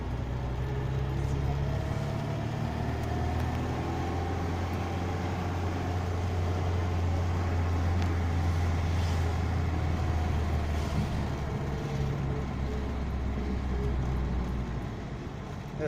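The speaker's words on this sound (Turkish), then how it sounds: "şu anda gördüğünüz gibi trafik var" From inside a Tofaş Şahin car moving through traffic, a steady low engine drone and road rumble carry on without a break.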